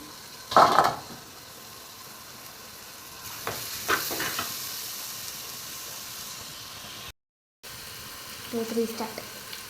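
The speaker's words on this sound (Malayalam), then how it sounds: "ഇഞ്ചി വെളുത്തുള്ളി മൂത്ത് തുടങ്ങി. ചെറിയ ഉള്ളി ഇട്ടു, പച്ചമുളക് ഇട്ടു," Ginger, garlic, shallots and green chillies frying in oil for beef curry, a steady sizzling hiss with a few stirring scrapes and clinks, briefly cutting out near the end, close-up and moderate.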